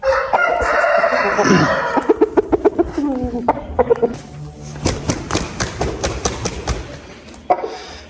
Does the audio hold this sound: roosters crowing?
yes